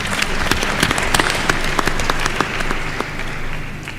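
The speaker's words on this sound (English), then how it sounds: "Let's applaud him once again." An audience at a university graduation ceremony applauds steadily, with sharp individual claps standing out over a dense wash of clapping that continues throughout.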